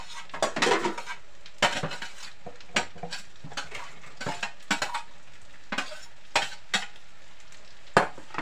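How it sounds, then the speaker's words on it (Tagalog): Dishes and cutlery clink and clatter at irregular moments, with sharp clanks over a faint background of running water. "medyo maingay. Naghuhugas kasi ng plato."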